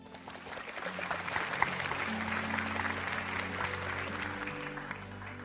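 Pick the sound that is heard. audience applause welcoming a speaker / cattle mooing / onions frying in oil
audience applause welcoming a speaker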